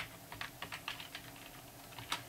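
Quiet, rapid tapping on a computer keyboard: a short burst of about a dozen light keystrokes in quick succession, heard close and alone.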